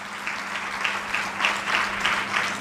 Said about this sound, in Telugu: వారి కొరకు ఒకసారి చప్పట్లు కొడదామా?